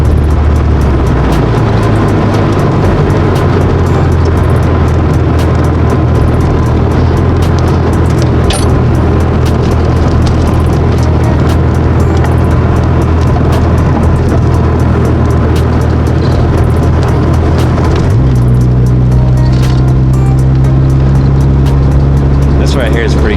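A Honda Civic on Rev9 coilovers drives along a road, its engine droning loudly from inside the cabin with a shift in pitch partway through, road rumble underneath.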